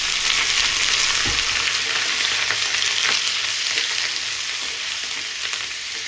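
Chicken frying with onions in a pan for biryani, a steady close hiss of sizzling oil with occasional stirring scrapes and no talking.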